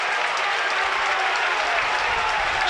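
A football stadium crowd at a Burnley v West Ham match breaks into steady, dense applause, a continuous wash of clapping that holds at even loudness throughout.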